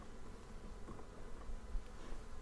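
Honeybees buzzing around an opened hive while brood comb with larvae and pupae is lifted out, a steady low drone of many insects close by, fairly quiet and continuous throughout.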